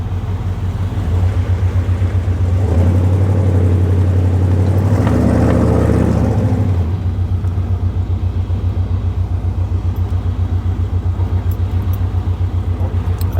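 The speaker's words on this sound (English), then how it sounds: "I do love the way this truck sounds" A loud, deep engine idles steadily, swelling into a throatier rumble for a few seconds before settling back to a constant drone.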